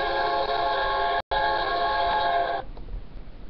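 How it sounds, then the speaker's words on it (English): A K5LA air horn on a BNSF SD60M locomotive in Microsoft Train Simulator blasts twice, a loud sustained chord broken by a brief gap, then cuts off into low engine rumble. "This one was a BNSF SD60M. With it, I had a K5 LA on it."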